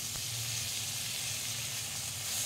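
Bay leaf, dried red chilli, cloves, peppercorns, green cardamom, cumin seeds and cinnamon sizzling steadily in hot oil, a continuous close hiss with a low bubbling undertone and no voices.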